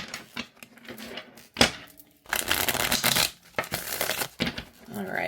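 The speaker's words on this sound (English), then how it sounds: "Overhand shuffles just fine." Tarot cards from a small tin deck riffled in overhand shuffles, a run of dense papery flutters and slaps in bursts with brief pauses, close and clear with no talk.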